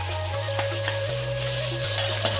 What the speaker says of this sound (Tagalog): prito lang po natin siya ng bahagya